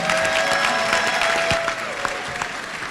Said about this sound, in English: Let's have another round of applause for these fantastic 16 scholars.